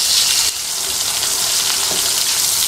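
Eggplant slices fry in a small amount of oil in a pan over a low-to-medium gas flame, giving a steady, loud, close crackling sizzle with a brief stir partway through.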